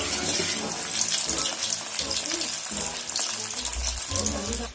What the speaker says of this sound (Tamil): இப்ப நம்ம சிக்கனை பொரிஞ்ச எண்ணெயில போட்டு ஃப்ரை பண்ண போறோம்